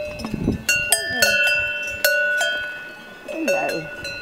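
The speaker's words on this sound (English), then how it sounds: "Your beautiful cows." Several cowbells on grazing cows clank irregularly nearby on the walk from Kleine Scheidegg to Wengen, Switzerland, ringing out with bright metallic tones, while a person calls out softly between the clangs.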